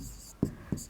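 Two short, distinct scratching strokes of chalk or pen writing during a maths lesson, each a brief tap-and-scrape with a quiet gap between them.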